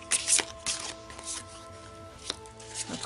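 Large tarot cards laid out one by one on a table, with soft slides and papery flicks spaced a second or so apart, close and quiet, against a faint steady hum.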